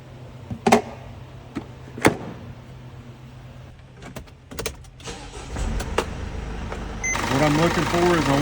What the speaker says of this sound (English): The first thing I'm going to do is to start the engine.